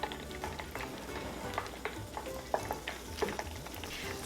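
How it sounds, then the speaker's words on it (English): Cauliflower pieces frying over high heat in about three inches of hot vegetable oil for Gobi Manchurian, a soft continuous sizzle with light crackles and occasional clinks, quiet and close, no talking. "Fry it over high heat for about 3 minutes until they are golden brown"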